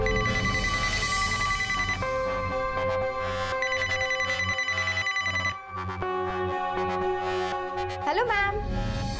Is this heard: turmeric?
no